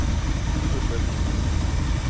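Car engine with a freshly installed Edelbrock AVS2 carburetor runs at a steady high idle with the choke still on, a continuous low rumble without pauses.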